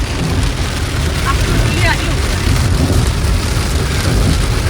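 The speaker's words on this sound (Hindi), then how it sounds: "तो यहाँ पे हो रही है बहुत तेज़ बारिश" Steady, dense hiss of heavy rain pouring down, a continuous loud wash with a low rumble beneath and no clear pauses.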